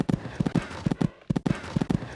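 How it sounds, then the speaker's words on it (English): Galloping horses in the Equestriad 2001 horse game, a steady run of soft hoofbeat thuds in quick pairs, fairly close, with a brief gap partway through. "These two are really galloping along now."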